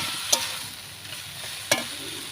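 Cabbage fries in a pan with salt, a faint steady sizzle broken by two sharp clacks of a spoon stirring against the pan, with no voices.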